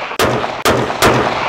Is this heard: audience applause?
no